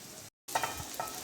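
Puffed rice being stirred in a hot kadhai that already has salt in it, giving a short, close dry sizzle and scraping with a brief break in the middle.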